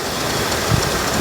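A Toronado's car engine idles smoothly and steadily at close range, a continuous even drone with a brief swell partway through and no voices.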